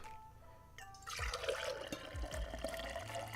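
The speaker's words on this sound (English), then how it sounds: "Let's put the tea in this cup." Liquid pours and splashes into a cup at close range, a steady gurgling trickle after a few soft clinks.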